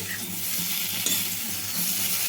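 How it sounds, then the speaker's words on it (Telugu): Leftover idli pieces fry with yogurt and spices in a pan over high flame, a steady close sizzle with stirring scrapes running throughout. "హై ఫ్లేమ్లోనే పెట్టుకొని మంచిగా కలుపుకుంటా అయితే వేయించుకోవాలండి"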